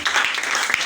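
A church congregation claps together in a brief, loud burst of dense, overlapping applause that lasts under a second, with no distinct speech over it.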